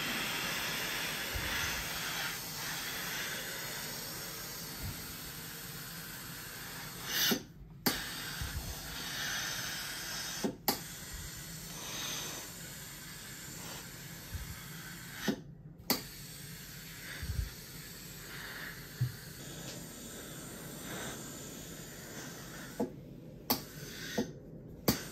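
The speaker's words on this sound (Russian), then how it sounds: "И пар проникает глубоко в ткань, и получается, пар еще вещи и обеззараживает" Braun steam generator iron pressing a T-shirt, with a continuous soft steam hiss broken by brief pauses and occasional sharp bursts, close and moderately loud with no talk.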